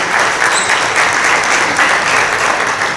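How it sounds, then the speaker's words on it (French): An audience applauds at a talk, with dense, steady clapping that stays loud and even for the whole stretch and no voices over it. "On peut les applaudir les gars"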